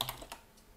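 A few quick, faint computer keyboard key clicks, a Control G shortcut pressed in a short burst of two or three taps, then quiet.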